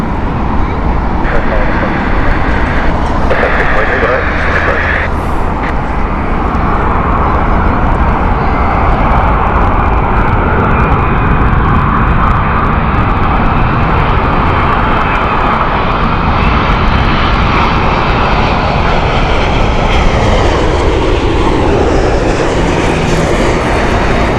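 A United Boeing 787 jet at Heathrow Airport produces a loud, steady engine roar that holds for over twenty seconds with a broad rushing wash of noise, and no one talks over it.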